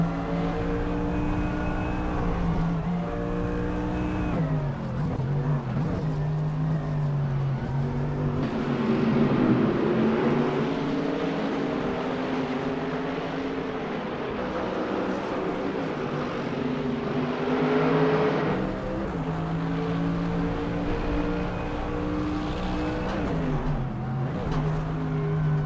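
A 2015 Renault Sport RS01 GT3 race car in a GT3 racing video game at Maple Valley, its engine droning steadily at high revs with rising and falling pitch as it shifts gears, loud and continuous with no voices.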